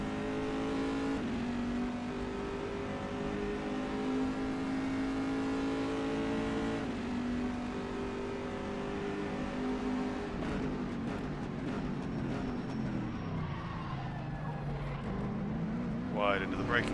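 GTE race car engine in rFactor 2 on the Magny-Cours circuit, revving hard and loud with shifting pitch through gear changes and braking, running continuously under a driver's commentary.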